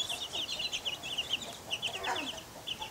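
Chickens clucking close by in a farmyard: a steady run of quick, bright clucks and chatter with small pauses between bursts.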